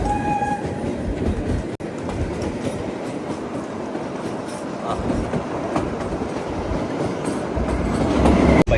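The Shivalik Deluxe Express runs from Shimla to Kalka at night, heard from inside with a continuous rumble and rhythmic clickety-clack of wheels, loud and close, swelling toward the end, with no talking.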